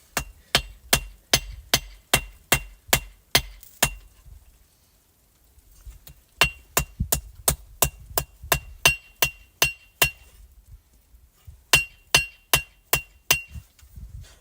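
A hammer strikes a knife blade on an anvil outdoors in snow during forging, ringing metallic blows in steady rhythmic runs with short pauses between series, close and loud.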